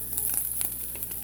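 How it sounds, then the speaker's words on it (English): Bologna (mortadella) frying in a pan, a steady close sizzle with faint crackles running throughout and no voices. "wait here with me while we cook the bologna"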